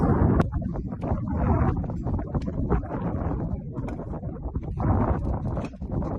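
Gusty wind buffets the microphone on a van's roof deck with rough, uneven low rumbling that swells and fades throughout, with no one speaking.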